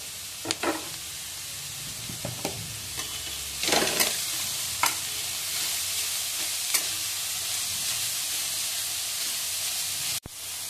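Grated cabbage and chopped spring onion stir-fried as a vegetable filling for veg momos, with a steady soft sizzle under scattered spatula scrapes and clinks against the pan, and one sharp knock near the end. No one speaks.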